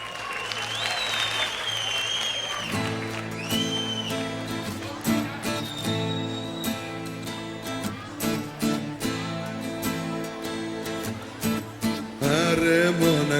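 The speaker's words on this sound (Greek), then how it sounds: "Και το χειροκρότημα θέλω να το πάρει αυτός που το έγραψε" Audience applause at a live Greek laïko concert, sustained clapping over band music for most of the stretch, swelling louder near the end.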